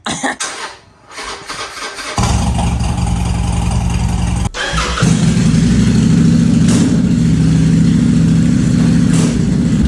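Motorcycle engine, a Harley-Davidson Sportster 1200 or Kawasaki Vulcan 800, cranking and catching, then settling into a loud, steady close-up rumble that steps up after a brief cut and keeps running.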